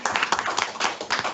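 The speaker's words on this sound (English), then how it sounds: "one more round of applause for our 5 and 20-year tenured employees" Clapping for five- and twenty-year tenured employees at a board meeting, a short burst of dense hand claps that sounds fairly close and lasts only a moment.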